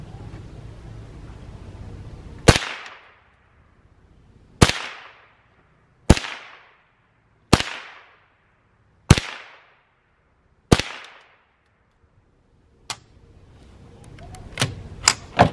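Gunshots blasting into a pumpkin being carved, six loud sharp cracks spaced roughly one and a half seconds apart with ringing decay, followed by fainter scattered shots and quiet handling at the end.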